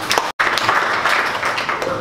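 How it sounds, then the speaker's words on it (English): A seated audience at an entrepreneur meetup in Dallas breaks into continuous applause, a dense, loud wash of clapping with a brief cut partway through. "So can you guys stand up and give Tony a round of applause"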